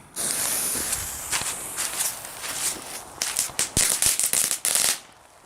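Dense, fizzing crackle of a firework, hissing continuously and then breaking into rapid bursts of sharp snapping pops before dying away.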